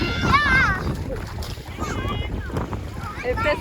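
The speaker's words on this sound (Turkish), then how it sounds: "Efe'yi ıslatacağım. Çocuklar Efe'yi ıslatıyoruz" Children splash and play in shallow seawater on a beach holiday, with close, choppy splashes and wind buffeting the microphone as kids and an adult talk and shout over it.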